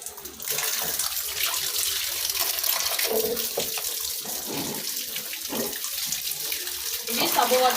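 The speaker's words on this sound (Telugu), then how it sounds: "ఫ్రెష్ వాటర్లో కూడా కొంచెం కడిగి ఇలా డేటాల్ వాటర్లో వేస్తాను" Tap water runs and splashes steadily while washed items are rinsed in fresh water at a home sink, a continuous gushing close by with occasional clatter and no talk.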